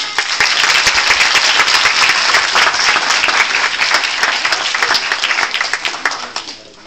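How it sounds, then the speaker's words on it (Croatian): An audience at a children's ballet recital gives loud, dense, sustained applause for several seconds, close and continuous before it fades at the end. "I još jednom bih vas zamolila za jedan divan veliki aplauz za naše male balerine."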